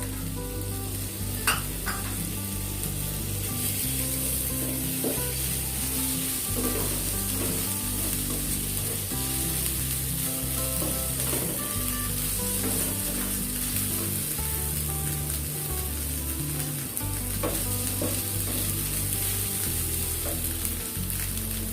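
Ginger and garlic frying with softened onion in a pan, a steady close sizzle with scraping stirs throughout, no voices.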